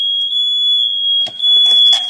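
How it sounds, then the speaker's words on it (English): A fire alarm sounds loud and close as a single sustained high electronic tone, ringing continuously indoors with some faint rustling noises underneath toward the end. "Sorry guys, fire alarm is going crazy."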